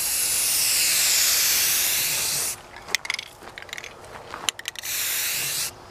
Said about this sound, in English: And spray the camera stand.